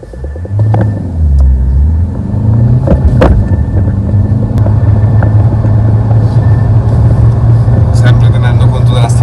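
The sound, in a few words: remapped car accelerating on acceleration run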